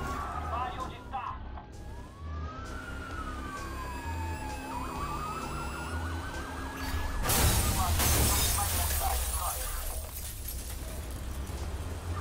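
A wailing police siren sweeps up and down in Watch Dogs during a high-speed police chase, joined by a burst of crashing noise and engine roar partway through, over steady background sound.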